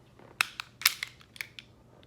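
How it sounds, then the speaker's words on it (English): A Taurus G2C pistol has its magazine removed and is cleared: a few sharp metallic clicks and snaps over about two seconds, close and fairly quiet, with no talking. "This is the Taurus G2C. All right. Magazine out."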